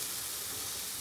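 Blended amla paste added to a hot nonstick pan gives a steady, even sizzling hiss, close and continuous for about a second, with no voices.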